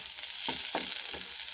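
Onion and garlic frying in oil with black cumin and broken dried chillies for a Bengali masoor dal tempering, giving a steady close hiss with a few soft stirring knocks and no voices.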